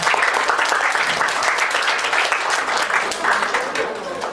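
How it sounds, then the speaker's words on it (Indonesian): A crowd applauds steadily at a competition awards closing in Surabaya, dense clapping holding at an even level for a few seconds with no voices standing out. "Kita beri tepuk tangan sekali lagi."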